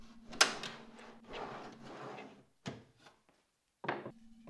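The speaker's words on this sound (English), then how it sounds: "then reinstalled the drawer." A wooden drawer on a DIY tall dresser slides in on its drawer slides with a rough, rumbling glide lasting a couple of seconds, followed by two sharp, close knocks as it seats.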